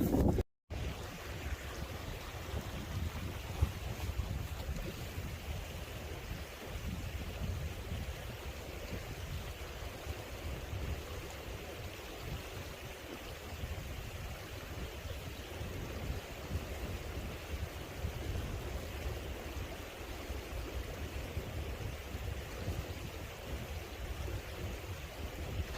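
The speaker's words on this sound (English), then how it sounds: "Beautiful little stream." Steady rushing water flows continuously, a broad even wash of sound with no voices, like a small mountain stream running close by in the Lake District's Esk Valley.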